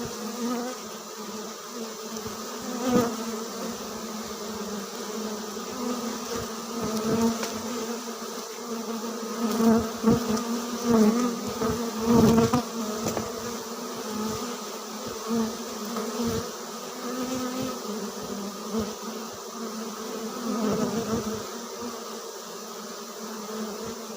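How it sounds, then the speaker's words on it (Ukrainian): A large swarm of honey bees hums and buzzes at a hive, a dense continuous drone that swells and fades with close individual bees passing by, with no one speaking. "треба висипати бджіл"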